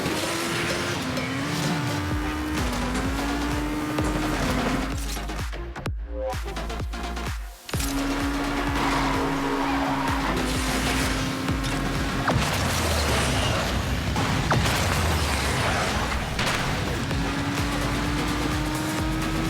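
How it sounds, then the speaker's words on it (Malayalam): Racing game Asphalt 9 played on an Honor 9X Pro phone: revving car engines with gear-shift pitch sweeps, a sharp crash-like break midway, and a continuous loud game soundtrack throughout. "ഇനി നമ്മൾ കളിച്ചു നോക്കാൻ പോകുന്ന ഒരു റേസിംഗ് ഗെയിമാണ് Asphalt 9."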